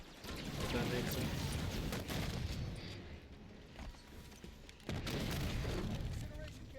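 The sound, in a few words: Halo video game incineration cannon firing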